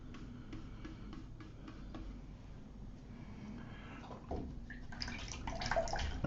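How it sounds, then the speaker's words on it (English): A paint brush being rinsed in a water pot, with soft, steady watery swishing and light clinks against the container, growing a little louder toward the end, with no voices. "Wash the brush out."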